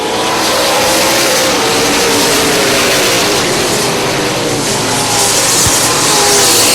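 Race cars accelerating at the green flag of a short-track stock car race, a loud continuous roar of many engines revving together up close, holding strong and steady throughout without commentary.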